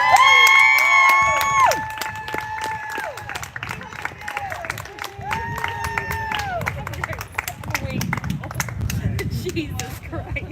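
At a protest rally, a crowd cheers and claps after a speech. Voices and whistles rise over the noise at first, and the cheering then settles into ongoing clapping and shouting for several seconds.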